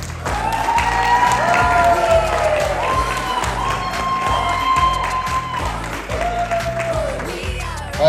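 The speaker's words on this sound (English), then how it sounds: "Round of applause, please." An audience applauds at an awards night in Marbella, a dense, steady wash of clapping that fills the room and carries on under loud music with a thumping beat, with a brief swell at the very end.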